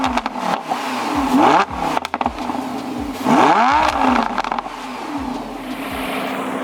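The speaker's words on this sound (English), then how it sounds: "So yeah, the Huracan sounds pretty good." A Lamborghini Huracan LP 610-4 V10 blips and revs loudly nearby, its exhaust rising and falling in sharp bursts with crackles and pops between pulls.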